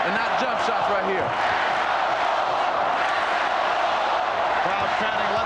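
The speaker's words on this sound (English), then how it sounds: "Crowd chanting, let's go Bulls" Arena crowd at a 1993 NBA Finals basketball game between the Chicago Bulls and Phoenix Suns, chanting in a steady, loud roar that fills the whole stretch.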